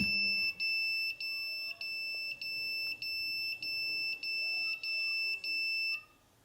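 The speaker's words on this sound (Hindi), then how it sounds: "तो देखा दोस्तों 10 सेकंड के लिए ये अलार्म जो है बज रहा है" An electronic security alarm triggered by a vibration sensor beeps in a fast, regular pulse, about ten loud high-pitched chirps in a row over ten seconds, then stops abruptly.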